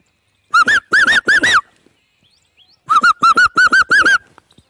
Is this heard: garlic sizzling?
no